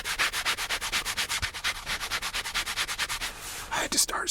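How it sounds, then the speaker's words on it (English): Wood surface being sanded by hand in quick, regular back-and-forth strokes, a close scratchy rasp repeating about six times a second, then a short pause and a few rougher rubs and handling noises at the end. "I had to start sanding, because you have to get everything nice down to a polished science"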